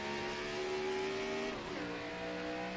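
Race cars accelerate together at a green-flag restart for a ten-lap shootout, a dense, steady engine roar whose pitch climbs, dips and shifts as the pack gets underway, with no voices.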